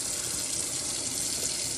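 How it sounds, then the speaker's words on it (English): Cold tap water runs steadily into a sink while shoelaces are rinsed, a close, continuous bright splashing hiss with no talking. "Try not to leave the water running."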